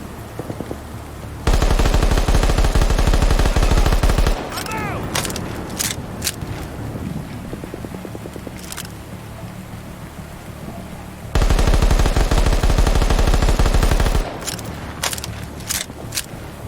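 Two long bursts of automatic gunfire fired through an M145 scope in the video game World War 3, loud and rapid, each lasting about three seconds, followed by clicks and handling sounds between them.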